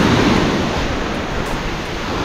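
Rough sea waves pound a small boat in a dense, unbroken rushing roar, loud and close, with wind blustering across the microphone and no voices.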